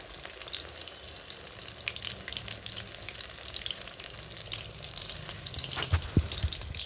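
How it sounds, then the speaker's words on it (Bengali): Eggplant and bok flower pakoras frying in hot oil, a steady close sizzle and crackle with a few light clinks near the end. "অল্প অল্প করেই আমি ভাজি করছি"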